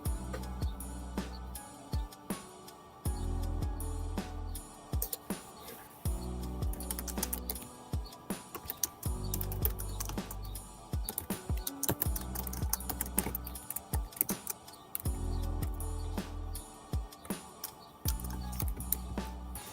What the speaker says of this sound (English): And now you can hear me typing.